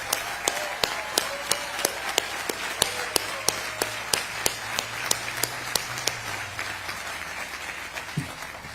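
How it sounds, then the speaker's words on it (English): Sparse, evenly spaced claps ring out in a steady rhythm for the staff at a Netflix Studios groundbreaking in New Jersey, with a faint low hum beneath. "let's give them a Coach Shempy clap it up."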